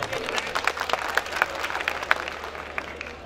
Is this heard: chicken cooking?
no